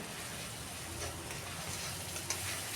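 Ground cumin, coriander and red chili powder sizzling steadily in a hot pan, a soft continuous frying hiss with faint stirring clicks and no talking.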